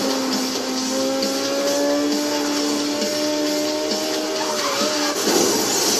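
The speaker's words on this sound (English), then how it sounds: "So let's try this car out." A racing car engine in the video game Need for Speed Most Wanted holds a loud, steady high-pitched whine throughout, its pitch sliding slowly, with a brief rise near the end.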